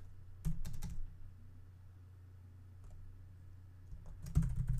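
Quiet clicks of a computer keyboard typed on in a small room, two short clusters of keystrokes at the start and end with near silence between.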